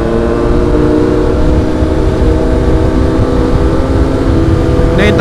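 Loud steady drone of a motorcycle engine whose exhaust has no loop or resonator, a straight-through pipe giving a throaty, even idle rumble close to the microphone.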